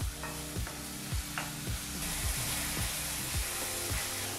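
Tomatoes frying in a pan for gravy, a steady loud sizzle with a spatula stirring and scraping in a repeating rhythm, close up and without speech.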